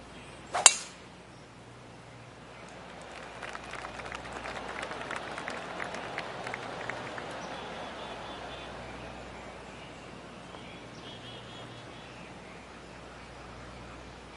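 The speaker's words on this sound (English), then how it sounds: "Oh, I can hear the golf claps around the course." Soft, scattered golf claps ripple from a distant gallery around a par 4 course in the PGA 2K25 video game, following a sharp click of a tee shot, then fading slowly into ambient quiet.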